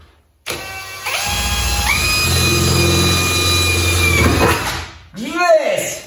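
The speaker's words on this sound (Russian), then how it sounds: "Потому что сверло не может просверлить отверстие." A drill bores into the fender of a new Niva Legend car, its loud motor whine stepping up in pitch and holding for about three seconds before stopping, followed by a brief swooshing sound.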